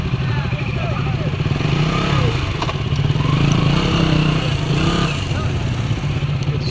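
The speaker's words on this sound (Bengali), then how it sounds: "সুপার বাইক না এটা?" A KTM Duke-style superbike engine revs steadily at close range on a group ride, a constant throaty drone with slight surges, overlaid by people chatting nearby.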